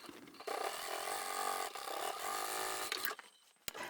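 Domestic sewing machine running steadily as it top stitches a fabric foldable tote bag, a continuous close whirring mechanical chatter for about two and a half seconds before stopping, followed by a brief click.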